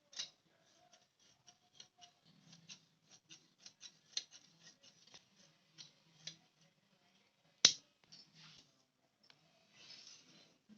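Scissors snip through blouse lining fabric in a quiet series of short, crisp cuts at an irregular pace, with one sharper click partway through and a brief rustle near the end.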